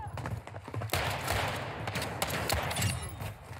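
Rapid bursts of video game gunfire from snub nose pistols crackle in quick succession, loud and sharp against a busy background, with some talk from a player mixed in.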